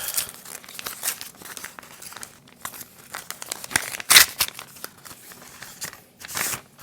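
A paper envelope is torn open and crinkled up close, with irregular rips and crumpling rustles and no talk.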